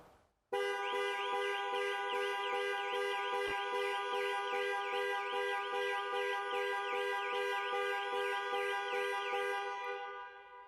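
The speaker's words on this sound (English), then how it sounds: "Press for 3 seconds or press 3 times in 3 seconds and the horn will sound" The panic alarm on a 2020 model year Jaguar XE sets the car horn blaring in a loud, continuous, rapidly pulsing tone for about ten seconds, then fading slightly at the end.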